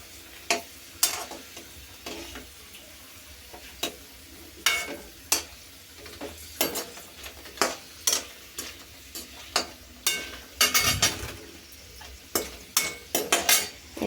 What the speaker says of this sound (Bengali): আমি একটু পাঁপড় ভাজছি